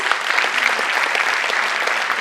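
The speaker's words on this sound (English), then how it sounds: "Can we have a huge round of applause?" Dense, steady applause from a large audience at an inauguration ceremony, sustained and loud throughout with no break.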